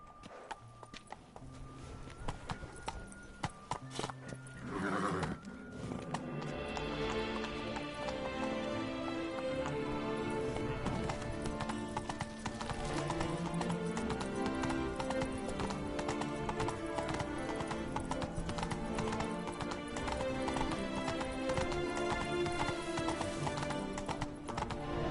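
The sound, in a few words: horse Roach galloping in video game The Witcher 3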